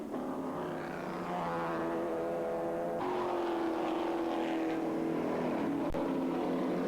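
Corvette race cars in a World Challenge race at Lime Rock scream past with rising and falling engine notes, loud and continuous, with a sharp transient near the end and no talk.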